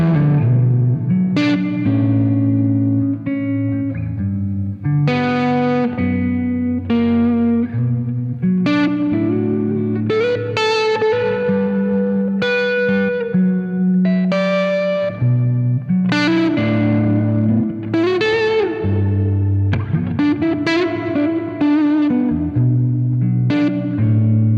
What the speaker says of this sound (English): My favorite way to use the amp is with a light distortion on it. And I love a lot of reverb when I'm doing this one.